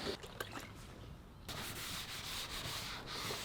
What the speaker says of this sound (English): go ahead and scuff up the paint with your sandpaper and sanding block